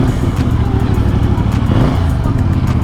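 A CF Moto 450CL-C cruiser motorcycle engine, warm from riding, runs with a steady low rumble that swells slightly as it is revved, close up and continuous throughout.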